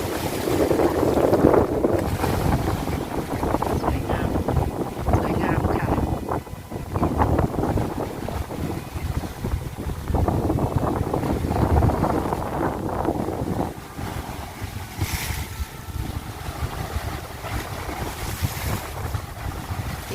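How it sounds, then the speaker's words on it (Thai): Sea waves crash and wash onto Bang Saray beach in Sattahip, Chonburi, Thailand, as wind buffets the microphone. The surf surges and recedes in uneven swells for about twenty seconds. "ฟังเสียงคลื่นซัดสาดมา"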